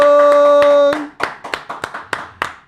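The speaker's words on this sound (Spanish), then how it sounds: "Un fuerte aplauso a Pablito Wilson." A sustained musical chord fades out and gives way to a handful of separate, sharp hand claps from a small studio audience, spaced irregularly and fairly close.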